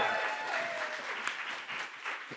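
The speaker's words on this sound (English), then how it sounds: "give her another round of applause for that" An audience applauds a panelist at a multicultural producers roundtable, with dense, continuous clapping that stays fairly even before slowly tapering off.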